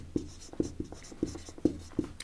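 A pen or marker writing notes on a board, a series of short scratchy strokes at an uneven rhythm, close and fairly quiet with no talking.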